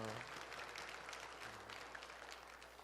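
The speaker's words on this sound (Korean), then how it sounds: "다시 한번 감사의 박수 한번 하시겠습니다." A church congregation claps at a deaconess ordination thanksgiving service, a soft, steady wash of applause that fades slightly over a few seconds, with a voice briefly audible at the start.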